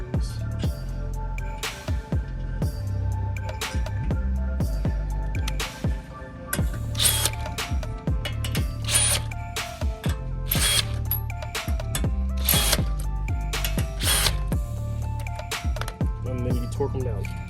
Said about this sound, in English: So let's torque these.